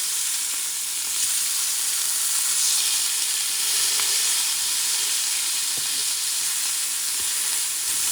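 Burger patties sizzle in a very hot cast iron pan, a steady, close frying hiss with small crackles and pops running throughout, no voices.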